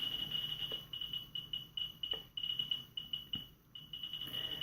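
A handheld directional radiation detector with a pistol grip emits a faint, high electronic tone in broken pulses that shifts and drops out as the unit is swung toward and away from the source.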